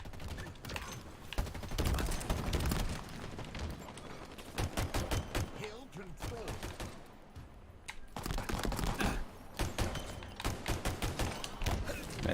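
In a Halo Infinite hill-control match, a grenade blast lands amid repeated bursts of gunfire and thuds, with voices talking throughout the fighting.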